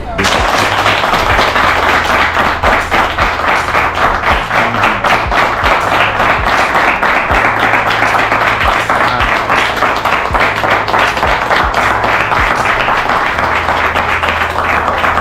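Loud, sustained applause from an audience thanking an extended family, dense clapping filling the whole stretch with a steady low tonal hum running underneath and some voices mixed in.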